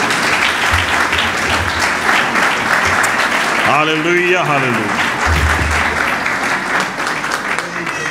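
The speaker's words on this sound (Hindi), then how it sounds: "यीशु के लिए जोरदार तालियां" Loud, dense applause fills a church Christmas sermon, with a voice calling out over the clapping partway through.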